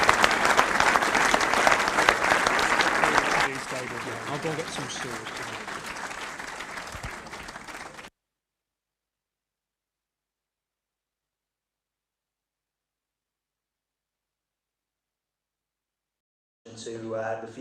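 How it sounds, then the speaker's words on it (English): Audience applause at a Sheffield Wednesday Supporters Trust AGM, loud and dense for about eight seconds and fading slightly, with someone speaking briefly over it, then silence before a short burst of talk at the end. "Let's have a round of applause for Chris Whitfield."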